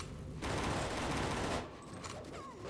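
Dense, continuous burst of rapid gunfire in the game NecroVisioN: Lost Company fills the first part, then fades into quieter scattered game sounds with faint chirps.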